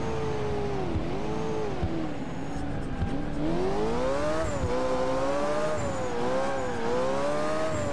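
A car in Alarm für Cobra 11: Burning Wheels races flat out at around 300 km/h, its engine droning steadily with rising and dipping pitch as it takes corners, plus faint passing whooshes, loud and without speech.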